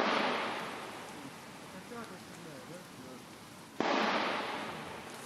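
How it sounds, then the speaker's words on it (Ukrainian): Two sharp, booming anti-tank rifle shots about four seconds apart, each followed by a long rolling echo, with faint chatter in between. "Це наші позиції прострілюють з протитанкової рушниці."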